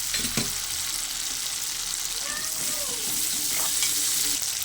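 Spice paste with chopped tomato frying in oil, a strong even sizzle and hiss running the whole time with occasional spatula scrapes and a light clank, close to the pan, no voices.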